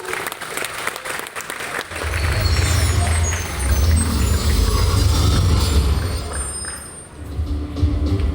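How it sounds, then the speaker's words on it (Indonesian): Applause fills a ceremony hall for a woman at the closing of an LP Ma'arif NU national working meeting at UNISMA Malang, a steady loud wash of clapping over a low rumbling hum, with a voice speaking over it. "Beri tepuk tangan yang meriah kepada Ibu."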